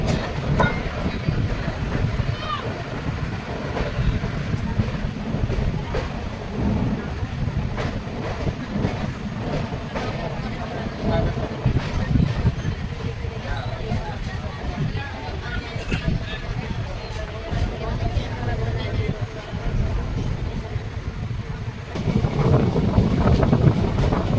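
Steady rumble and rattle of the Tatanagar–Asansol Express running along the rails as it rounds a curve, heard from on board with wind buffeting the microphone throughout and a voice talking over it.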